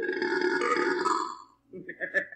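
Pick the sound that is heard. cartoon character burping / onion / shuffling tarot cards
cartoon character burping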